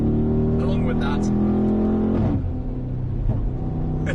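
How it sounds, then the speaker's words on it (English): Mercedes-AMG G63 engine droning steadily and loudly while driving on twisty roads, a continuous deep rumble with a brief shift in tone midway, with a voice talking over it. "this can get A to B very, very quickly, and it can do it with a lot of noise along with that"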